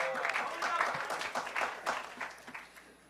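Hackers in a conference hall break into applause when the Wi-Fi comes back, a brief burst of clapping with some cheering mixed in that dies down over about three seconds.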